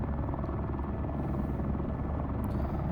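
A helicopter in a flight simulator game gives a steady, loud rotor and engine drone with low rumble throughout, unbroken and close, with no voices.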